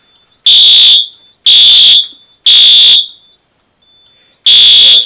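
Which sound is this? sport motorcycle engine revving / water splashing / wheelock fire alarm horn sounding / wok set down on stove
wheelock fire alarm horn sounding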